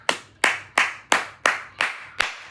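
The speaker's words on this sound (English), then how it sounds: "clap it up for the homie 2 Gangsta for YouTube" Seven slow, evenly spaced hand claps from a single person, each sharp and close, ringing briefly before the next, with nothing else heard between them.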